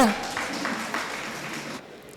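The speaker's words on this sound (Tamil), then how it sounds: "கைத்தட்டல் கொடுங்க" An audience at a Tamil astrology talk applauds for a moment, a soft steady patter of clapping that fades after about two seconds, with a voice speaking over it.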